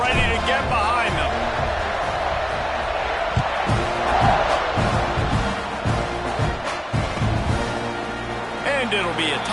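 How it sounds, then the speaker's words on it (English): Football stadium crowd at kickoff after a touchdown and extra point, a broad sustained roar of many voices with rising cheers, heard under an announcer's commentary. "this crowd now ready to get behind them"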